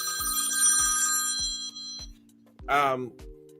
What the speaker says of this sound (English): Go ahead, just silence your phone.